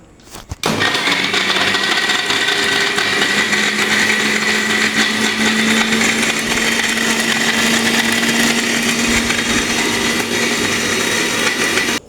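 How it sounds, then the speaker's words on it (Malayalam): A kitchen mixer grinder switches on abruptly and grinds appam batter with added water, a loud, steady whirring motor drone that runs unbroken for about twelve seconds before cutting off. "നമുക്കിത് മിക്സ് ചെയ്തിട്ട് വരാം."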